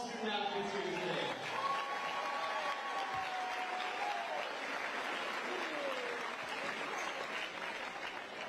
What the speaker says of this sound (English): Big round of applause for all the student athletes here today.